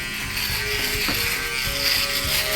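A kensen IPX7 waterproof foil electric shaver buzzing steadily while shaving, a constant close motor whir with rough crackling as it cuts through stubble.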